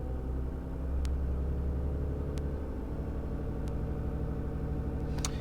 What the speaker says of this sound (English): then that'll pretty much turn on your high idle. Now you can increase the RPMs up to no higher than 1500